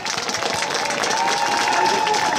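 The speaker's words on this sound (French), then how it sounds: "on peut les applaudir." A crowd at a Christmas lights launch applauds a gospel choir, dense clapping that grows slightly louder over a couple of seconds, with a faint sustained tone underneath.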